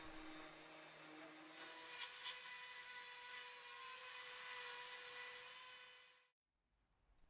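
Power sander smoothing the feet of a 2x4 wooden coat rack, a steady high whirring drone that holds evenly for about six seconds, then cuts off abruptly into near silence.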